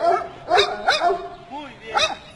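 A giant schnauzer barks in several sharp, close bursts with a brief whimpering sound between them, alongside a person's voice.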